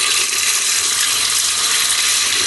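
Tap water runs into a kitchen sink in a steady, fairly loud rush that holds the same level from start to finish, with no voices.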